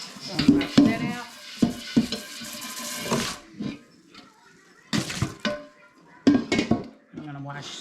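Running water rinses out a cooking pot with cool-touch rubber or silicone handles, splashing in uneven bursts with clinks of the pot against the sink and brief pauses between rinses.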